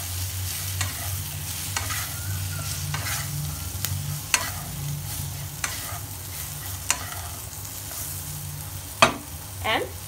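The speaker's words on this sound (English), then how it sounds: "And let them fry for a while." Turmeric and Kashmiri red chili powder frying in oil in a pan, a steady soft sizzle with intermittent scraping and stirring clicks from a utensil, close and continuous throughout.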